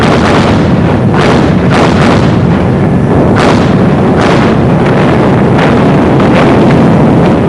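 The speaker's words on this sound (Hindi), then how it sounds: "पहले तो भारी सोवियत गोलाबारी की बौछार हुई" Heavy Soviet artillery barrage in WWII footage: continuous, loud rumbling gunfire with repeated sharp blasts roughly every half second to second, layered over constant booming and wind-like noise, with no voices.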